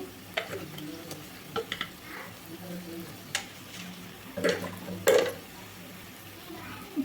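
Spices being stirred into chole masala (chickpea curry) in a pan, with scattered scraping clinks of a spoon against the pan over a soft sizzle, including a couple of louder scrapes.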